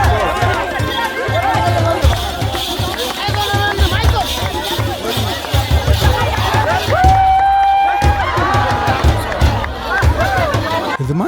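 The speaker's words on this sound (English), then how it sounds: "Each time he slipped, the crowd would encourage him and hope that he gets it right" Crowd at an Ethiopian bull jumping ceremony calling out encouragement to a man running across a line of bulls, a steady close murmur of many voices with chatter and brief shouts throughout.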